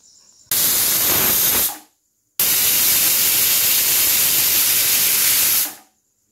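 A pressure cooker boiling dal on a gas stove releases steam with a loud, steady hissing whistle, first a short blast of over a second, then a pause and a longer roaring burst of about three seconds.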